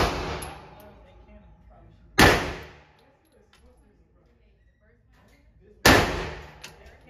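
An FN firearm fires two loud, sharp gunshots at an outdoor shooting range, spaced several seconds apart, each with a sharp crack followed by a decaying echo, over quiet background sound between the shots.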